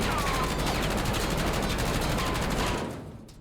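Sustained full-auto gunfire from a weapon in Call of Duty: Warzone, a dense continuous burst of rapid shots that runs loud for close to three seconds, then cuts off and trails away quickly into quiet.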